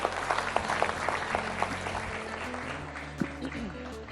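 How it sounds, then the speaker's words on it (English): Audience applause at a speaking event, a steady wash of clapping with a few sharper hand claps standing out near the front, held at a moderate level for several seconds. "Please applaud louder"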